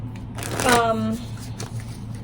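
Tarot deck riffled and shuffled in a short burst of rapid card flutters, close and fairly loud, with a steady low hum and faint voice behind it.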